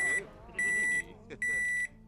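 A microwave oven in The Sims 4 gives three sustained electronic beeps, each lasting about half a second, separated by short gaps, loud and clear with faint game sounds in between.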